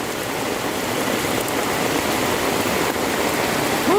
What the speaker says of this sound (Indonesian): kayaknya hujan bakal lama berhentinya deh, bakal lama redanya